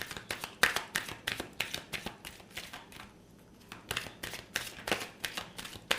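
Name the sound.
shuffling tarot cards to draw more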